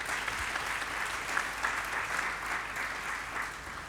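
A church congregation applauds in praise of the Lord, a dense, steady wash of many hands clapping at once, sustained throughout without speech.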